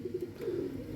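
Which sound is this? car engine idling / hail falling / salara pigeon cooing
salara pigeon cooing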